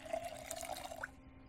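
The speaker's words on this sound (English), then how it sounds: "Let's go ahead and fill up our cooking pot." A cooking pot filling with water from a tap in the survival game Project Zomboid, a short trickling pour with a soft rising gurgle that cuts off after about a second.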